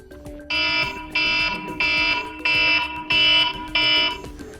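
iPhone 16 built-in alarm tone called Alarm, six loud, evenly spaced electronic beeping bursts about half a second apart, clear and close with a faint background hum.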